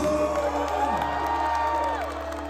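A crowd at a concert cheers and whoops in a sustained, even roar, with shouts and high calls layered over a steady hum for a couple of seconds.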